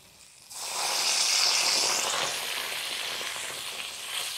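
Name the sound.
water added to a hot frying pan, sizzling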